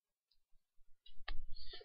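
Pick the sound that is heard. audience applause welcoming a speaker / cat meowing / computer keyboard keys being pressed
computer keyboard keys being pressed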